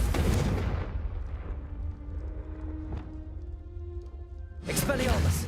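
Confringo blasting spells detonate in the Hogwarts Legacy video game, loud booming explosions at the start and end with a rumbling decay between, heard alongside talk.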